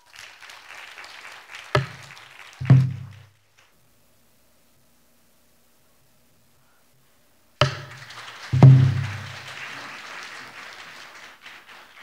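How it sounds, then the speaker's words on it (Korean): An audience claps to welcome a pansori master at a 2022 public performance of Korean national intangible heritage: two bursts of close applause, each fading out, separated by several seconds of silence. "큰 박수로 정순윤 선생님을 모시겠습니다"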